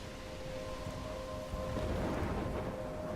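Stormy ambience from the video game Life is Strange: a steady, dense wash of rain and rumbling thunder that swells louder midway, with a faint sustained tonal hum running underneath.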